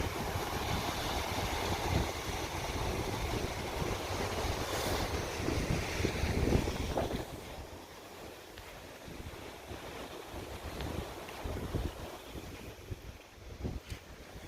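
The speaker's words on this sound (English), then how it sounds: "Big waves, but extremely big." Big waves breaking on a sand beach along the Superior Hiking Trail, a steady broadband roar of surf with wind buffeting the microphone, louder for the first seven seconds and then easing to a lower continuous wash.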